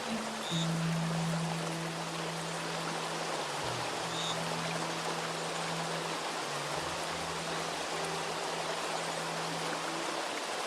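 Steady, loud rush of flowing stream water fills the whole stretch as an even broadband wash, with a low droning tone running underneath and no speech.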